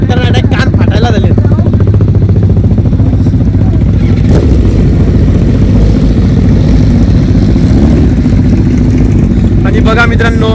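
A Kawasaki ZX-10R sport motorcycle engine runs very loud and close, a dense constant roar with a slight throttle blip at the start, with a voice speaking over it.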